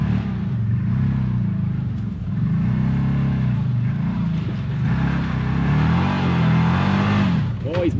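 Off-road UTV on a hilly trail, engine revving in repeated rising and falling surges while spinning its tires to warm them, steady rumble at moderate distance.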